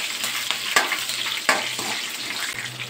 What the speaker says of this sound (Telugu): వేసిన తర్వాత ఇవి కూడా కొంచెం లైట్గా ఫ్రై చేసుకోవాలి.